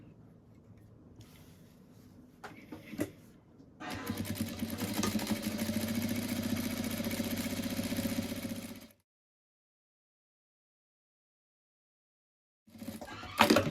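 A sewing machine topstitches a clean seam around a butterfly doll, running steadily for about five seconds after some handling noises, then going quiet before a brief burst of handling at the end.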